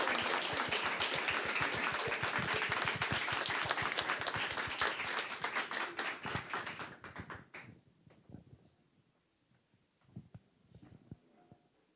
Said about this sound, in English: We need a big round of applause for our judges.